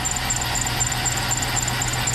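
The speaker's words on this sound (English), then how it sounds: "I think it's an idler squeak." A thin, repeating idler pulley squeak rises over the steady idle of a 5.3 V8 swapped into a square-body Chevrolet truck, chirping at a regular quick pace.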